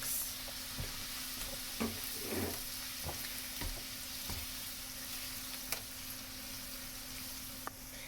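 Chopped onions for ful fry slowly in a pan, giving a quiet, continuous sizzle with a few faint taps and scrapes of stirring, fairly distant and low in level.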